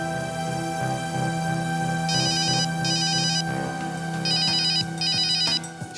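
A phone ringtone trills in repeated electronic bursts, loud and close, set against a steady musical hum in a tense crime-investigation drama scene.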